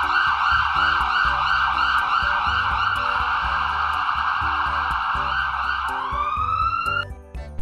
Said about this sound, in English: Heavy duty ambulance.